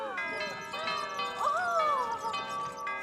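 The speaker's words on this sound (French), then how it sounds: "Exactement comme notre carillon." A mellow chime rings out in overlapping tones, with a voice speaking alongside it at moderate volume.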